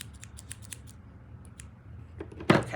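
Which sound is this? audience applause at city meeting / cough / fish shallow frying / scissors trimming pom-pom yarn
scissors trimming pom-pom yarn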